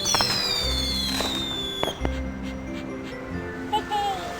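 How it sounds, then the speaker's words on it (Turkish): Synthetic fireworks bursts pop and crackle twice, with whistling rising and falling tones, over a background of electronic game music. "Biraz havai fişek."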